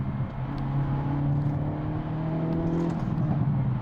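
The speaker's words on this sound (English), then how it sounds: "you certainly still hear the car." A Hyundai i30 Sedan N drives along a rough country road, giving off a steady, moderate engine drone with road rumble and a slight rise in pitch. There is no talking.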